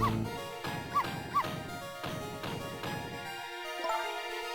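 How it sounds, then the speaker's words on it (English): A dog barks repeatedly in the Ghost Trick video game: several sharp, yipping barks and whimpers in quick succession over a background music track, with the final bark trailing off. "No, Missel, you're not supposed to bark."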